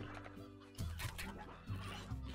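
Chicken clucking in the Slime Rancher video game, a few short bursts of clucks over a steady game soundtrack, fairly close and moderately loud.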